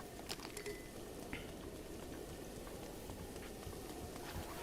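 Rain falling in a Zelda video game, a soft, steady pattering hiss with faint scattered drops, quiet and continuous with no talking.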